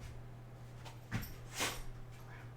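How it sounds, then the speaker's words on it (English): A puppy gives a short snort and a faint whimper close by, two brief bursts over a steady low hum. "There's the puppy."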